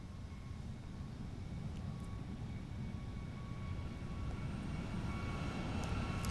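Steady jet engine roar of a Boeing 737-800 in the X-Plane 11 flight simulator, a broad continuous rumble with a faint whine, holding even and slowly swelling slightly.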